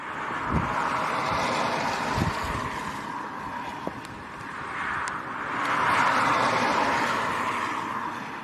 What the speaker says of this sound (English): It's very, very windy, it's a very strong crosswind.